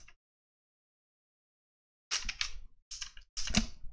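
Code being typed on a computer keyboard: a brief tap, a long silence, then three close, fairly loud bursts of rapid keystrokes with no talk.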